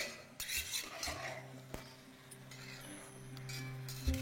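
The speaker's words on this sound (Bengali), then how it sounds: "মেশানোর সুবিধার জন্য আমি এখানে একটা খুন্তি নিয়ে নিলাম" A spatula scrapes and taps against a pan while chicken for pulao is stirred, with light metallic clinks and scraping over a steady kitchen hum, close and moderately quiet.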